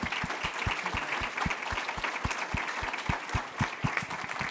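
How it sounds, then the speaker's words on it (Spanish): Applause from the audience at a keynote conference on the electoral implications of judicial reform at Tec de Monterrey, a steady mid-level wash of clapping with regular low thumps running beneath it throughout. "Antes les voy a pedir que los recibamos a ellos con un fuerte aplauso,"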